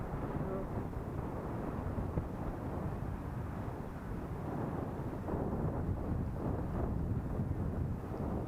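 Strong sea wind on a Thai bay buffets the microphone in a constant low rumble, gusting steadily throughout with no other clear sounds.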